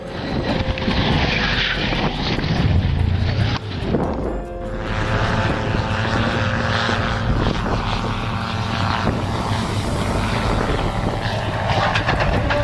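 An airplane landing, a loud, sustained engine roar with a droning propeller tone that dips briefly then swells again, continuous and close with no talking.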